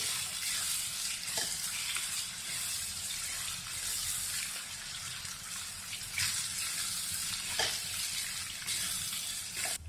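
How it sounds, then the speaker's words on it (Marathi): Tomatoes softening in hot oil for Puneri misal, a continuous gentle sizzle with occasional stirring scrapes, fairly quiet and close. "आता आपण टोमॅटो घालून घेऊ, टोमॅटो पण छान चांगला परतला पाहिजे, मऊ झाला पाहिजे"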